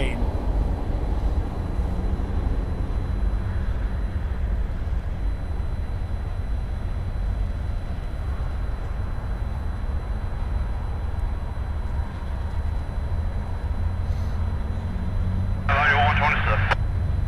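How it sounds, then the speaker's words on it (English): A long coal train rolls past trackside with a steady, continuous low rumble and grinding that fills the whole stretch. Voices or radio chatter run over it, with a brief brighter burst near the end. "long coal train."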